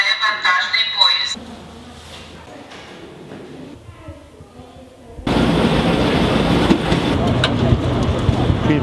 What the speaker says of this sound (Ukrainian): Будьте обережні, на третю колію прибуває вантажний поїзд.